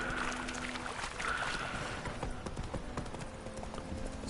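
Horse hooves clip-clop steadily at a walking pace in The Witcher 3 video game, close and fairly loud over a low ambient game soundtrack, with no talking.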